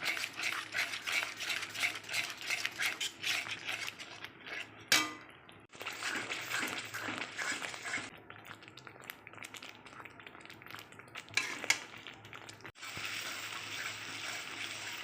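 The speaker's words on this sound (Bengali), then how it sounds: "এটাকে আবার ভালো করে কষাবো। আর টক দই দিয়েই কষাতে হবে," Katla fish masala with sour curd being stirred and sautéed in a pan, with repeated scraping strokes, metallic clatters and a low sizzle, broken by a couple of short pauses.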